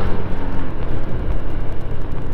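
A car running nearby on a rough road, a broad low rumble of engine and road noise filling the short stretch with no voices.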